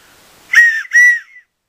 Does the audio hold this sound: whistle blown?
yes